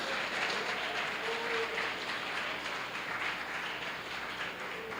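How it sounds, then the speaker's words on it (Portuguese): A church congregation at a Lord's Supper service applauds in a steady, fairly distant wash of clapping that carries on evenly for several seconds without any speech. "Dê uma salva de palmas a Jesus."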